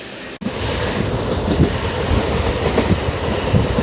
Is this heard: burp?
no